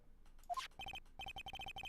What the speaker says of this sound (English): that's the beep on his phone